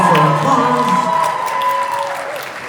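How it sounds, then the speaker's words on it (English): Audience applause and cheering at a Comic-Con horror entertainment panel, a loud, dense wash of clapping and whoops that fades gradually over a few seconds, with faint voices in the crowd. "Hold for applause"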